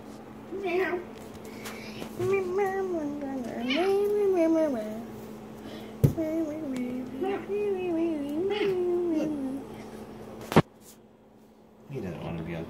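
A pet cat meows repeatedly and expressively, with long rising-and-falling calls close to the microphone over a steady low hum, while people talk nearby and a couple of sharp knocks break in.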